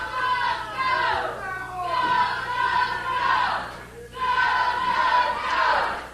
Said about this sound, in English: you hear the crowd ready here for a great day of professional wrestling